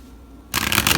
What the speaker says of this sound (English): Let's give the street deck one good shuffle.